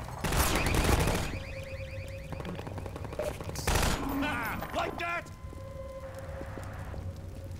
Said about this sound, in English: there's a turret right here